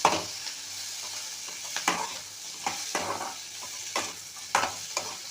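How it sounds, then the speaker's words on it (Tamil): Tamarind sautéing in a pan with mint for a mint chutney, a soft continuous sizzle broken by several distinct spoon or spatula scrapes at irregular intervals, close up with no voices. "இப்போ சின்ன நெல்லிக்காய் சைஸ் அளவு புளி ஆட் பண்ணிக்கலாம் அதையும் சேர்த்து நல்லா வதக்கி விடலாம்"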